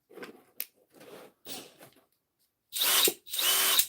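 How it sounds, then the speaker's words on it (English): A Milwaukee 891 impact wrench runs in several short bursts of whirring, then two longer, louder full-speed runs close by. "An 891 impact wrench."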